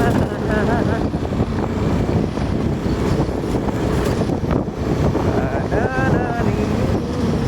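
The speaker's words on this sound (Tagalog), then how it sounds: "Pagod na siguro itong motor." A motorboat engine drones steadily and loudly up close, with rushing wind and water noise and faint voices underneath.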